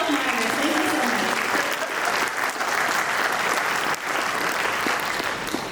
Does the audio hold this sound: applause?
yes